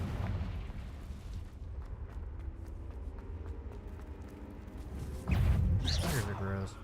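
A Confringo blasting spell in Hogwarts Legacy, a sudden heavy booming explosion late in the clip following quieter game sounds, with a voice speaking beneath.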